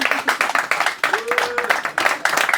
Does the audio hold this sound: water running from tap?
no